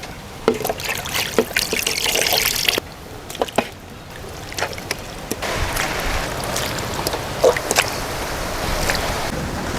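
Running water and dribbling splashes while turkey meat is rinsed in a village kitchen, with intermittent clatter and drips, fairly close and steady throughout, no voices.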